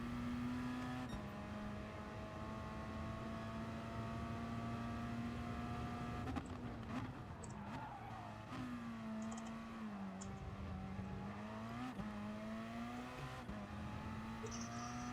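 Race cars in a Splinter Series racing video game, engines droning steadily at a high pitch with shifting revs as the cars battle through the laps, loud and continuous throughout.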